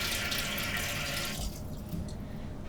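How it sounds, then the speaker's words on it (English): Tap water running steadily into a sink while hands are rinsed, a bright continuous splash that stops partway through, leaving quiet room noise. "I'm gonna rinse my hands super quick"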